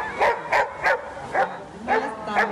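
Several dogs from a rescue and intervention team bark in short repeated bursts, about six yelps at a quick irregular rhythm, close and clear outdoors in a town square.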